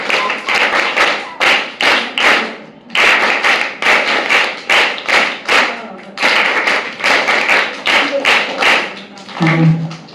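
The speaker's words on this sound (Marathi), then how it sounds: "चला सगळ्यांनी टाळ्या वाजवून आपल्या आजच्या पाहुण्यांचं स्वागत करूया" Children at a Guru Purnima storytelling event in Pune clap together in bursts of rhythmic, loud group applause, pausing briefly between rounds, with a voice faintly present near the end.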